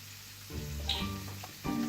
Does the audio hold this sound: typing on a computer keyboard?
no